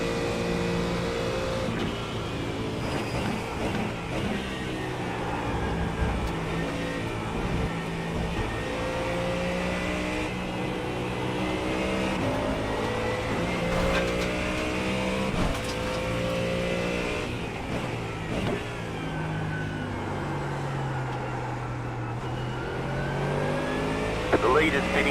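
Ford Mustang GT race car engine in iRacing GT endurance running steadily for the whole stretch, with harmonic tones rising and falling through gear changes and throttle. Other cars are nearby, and a voice talks over it.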